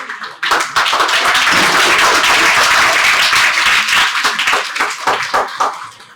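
An audience at a book launch for a book on Dr. B.R. Ambedkar bursts into loud, dense clapping that holds steady for several seconds, then thins into scattered claps.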